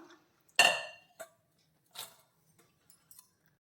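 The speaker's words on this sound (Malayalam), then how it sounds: "ഒരു കുക്കർ എടുത്തിട്ട് നമുക്ക് ഇട്ട് കൊടുക്കാം" Metal pressure cooker clanks and clinks: one loud clatter followed by a few lighter knocks and taps, close by in an otherwise quiet room.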